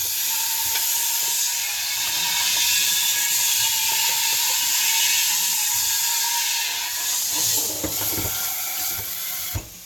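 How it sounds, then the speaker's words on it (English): Dishes are washed in a kitchen sink: steady hissing running water with scattered clinks and clatters of dishes, close and fairly loud, without talking. "Just some sudden video of me washing dishes?"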